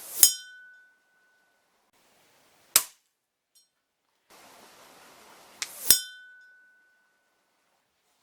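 Two or three crisp gunshot-like cracks, each trailed by a faint ringing metallic ting from a pellet striking a metal target bell 100 yards away, in otherwise quiet surroundings.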